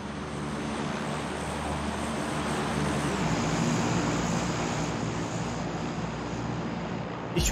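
Steady airplane engine drone from the PUBG battle royale video game, a continuous broadband roar holding level throughout with no speech over it.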